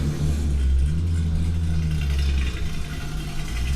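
A turbocharged 1,000 horsepower Toyota Supra engine rumbles loud and close at a street race in Texas, a deep, steady roar with slight rises and dips in pitch and no talking.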